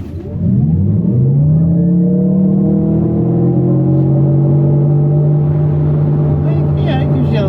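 Genesis GV60 electric car in sport and boost mode playing a simulated gas engine growl, a loud steady synthetic engine tone that rises slightly and holds without shifting, close inside the cabin.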